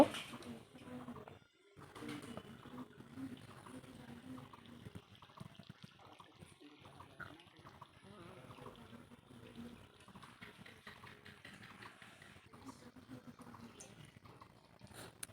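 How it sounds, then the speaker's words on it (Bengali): Water is poured into a pot of cooked chicken to make curry gravy, a low, continuous splashing and running sound that is faint and close, with a brief pause near the start and birds cooing softly in the background. "তো এখন আমি এটা ঝোলের জন্য জল দিয়ে দেব।"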